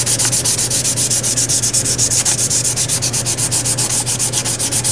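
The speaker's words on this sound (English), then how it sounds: "take your sandpaper, just give it a good once over with it" Sandpaper rubbed back and forth over a resin-coated fuselage panel on an RV-6 aircraft build, a steady rapid series of close, loud scratchy strokes with even rhythm throughout.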